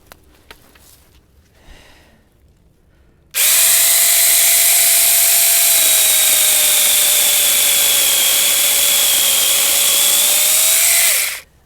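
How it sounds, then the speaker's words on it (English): After a few seconds of quiet rustling, a 6-inch mini chainsaw starts up and whines loudly and steadily for about eight seconds as it cuts a tree limb about 3 to 4 inches thick, then stops. "when using a chainsaw, you want to start the blade moving before you touch the wood"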